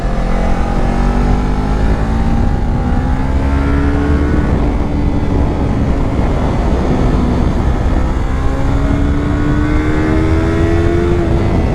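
A Yamaha R3 motorcycle engine drones loudly and continuously while riding through twisty roads, the pitch rising and falling smoothly with throttle changes amid heavy wind rush, with no voices.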